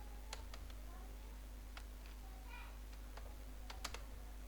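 Someone types on a computer keyboard while writing HTML code, and scattered keystroke clicks come in small irregular bursts over a low steady hum.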